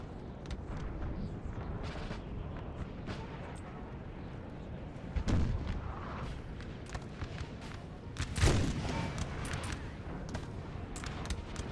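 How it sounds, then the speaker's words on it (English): Artillery and musket fire during the Battle of Auerstedt in Napoleon's Eagles, a continuous crackle of distant volleys punctuated by two louder booming cannon shots. "The center, still a lot of shooting here."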